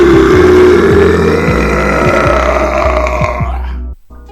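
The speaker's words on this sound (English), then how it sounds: "Now this burp is angry." Someone lets out one long, loud, guttural burp after downing carbonated water, a rumbling belch that rolls on for about four seconds and then cuts off abruptly.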